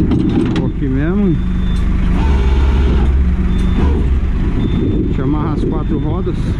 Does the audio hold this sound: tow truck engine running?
yes